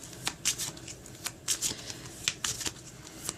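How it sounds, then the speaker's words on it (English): Quiet crisp riffling of a tarot deck being shuffled, a series of quick papery flicks and taps in irregular bursts, close by with no voices. "I'm just going to give the deck another quick shuffle just like this."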